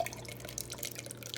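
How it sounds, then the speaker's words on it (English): Potato water pours from a pot through a sieve into a kitchen sink or bowl, giving a faint, quiet trickling splash that runs steadily without talk. "I'm going to use a sieve and I'm just going to pour right from the pot"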